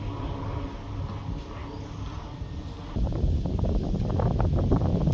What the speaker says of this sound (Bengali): আজকে যে বাতাস ছাড়ছে